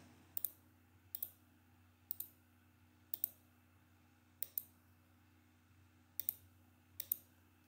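Mouse clicks from operating garment CAD pattern software to add notches on a women's jeans pattern: seven crisp, close single clicks spaced about a second apart over a quiet steady hum, with no talk.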